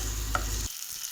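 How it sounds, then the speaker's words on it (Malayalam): Green chilli and garlic sauté in a hot pan for a chilli chicken dish, giving a steady frying sizzle with a brief scrape of stirring before the sound cuts off abruptly. "പച്ചമുളക്, വെളുത്തുള്ളി ഇവയിട്ട് നന്നായി വഴറ്റുക"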